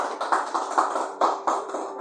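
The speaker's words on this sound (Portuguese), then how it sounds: "Palmas para Jesus" A church congregation claps hands in a quick, steady rhythm, the regular slaps repeating evenly for about two seconds at moderate loudness, with no talking.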